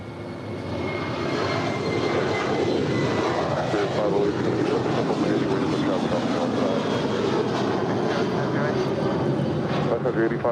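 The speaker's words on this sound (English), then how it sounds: "747-8 Intercontinental landing up there on the north side" A Korean Air Boeing 747-8 Intercontinental lands at LAX on the north side, its engines producing a loud, steady roar that holds without break from start to finish.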